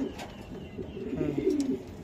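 Racing pigeons coo softly and continuously at close range in a loft, with low rolling calls layered over faint background noise.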